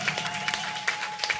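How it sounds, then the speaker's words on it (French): A church congregation at a French-language healing service applauds and cheers, a short burst of dense clapping with brief shouts rising above it, fairly loud and close. "Là, vous êtes en train de m'acclamer."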